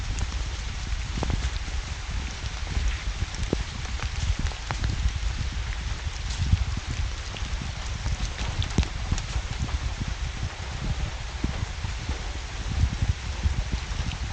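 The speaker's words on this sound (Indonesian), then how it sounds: "Dan untuk kondisi cuaca itu sekarang hujan lagi ya" Steady rain falls nearby at a mountain hiking trail shelter, a dense hiss with scattered sharper drips and patters on surfaces throughout, no voices.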